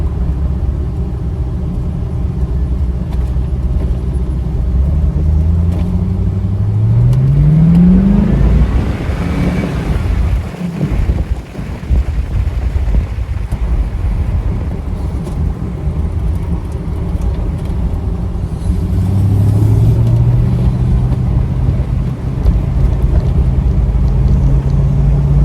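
A Chevrolet C4 Corvette on the road hums with a steady low engine rumble and heavy wind noise, the pitch climbing briefly under acceleration and settling back, heard from inside the car with no talking.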